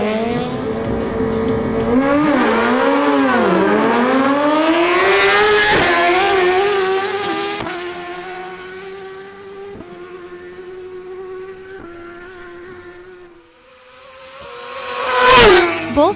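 Suzuki GSX-R1000 sport bikes scream through rising, shifting gears in a quarter-mile drag race, loud and close. The pitch climbs in sweeps with gear changes, then fades as they pull away, ending with a sharp burst.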